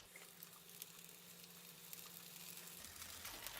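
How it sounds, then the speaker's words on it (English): Burger frying in bacon fat in a blue pan, a steady close crackling sizzle with a low hum underneath, no talk. "Frying in bacon fat."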